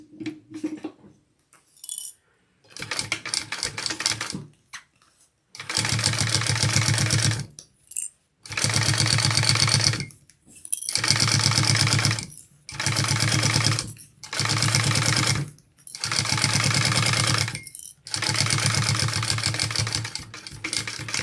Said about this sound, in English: let's top stitch this little edge down here